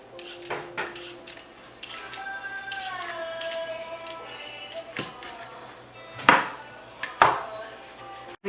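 Knife chopping peeled cucumber into cubes on a board, a few sharp, irregular cuts with light clatter and two louder knocks near the end, close and clear.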